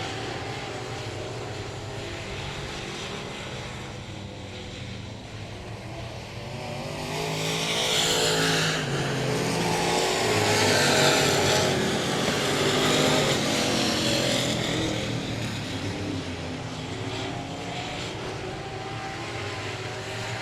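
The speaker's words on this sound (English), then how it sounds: "Matt Fox has to get all the way out of the throttle to try to get the 53X machine to turn" Race cars lapping a speedway oval at South Texas Speedway, engines roaring steadily as a pack passes. The sound swells louder mid-clip and then eases back to a constant broad drone with no talk.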